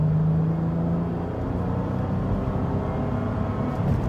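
A 1998 Honda Accord with a VTEC engine runs steadily, a continuous low rumbling hum with a faint whir, close and alone with no talk.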